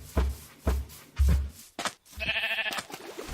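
Several short bleating cow calls from Minecraft, spaced out and fairly loud, followed by a longer warbling call.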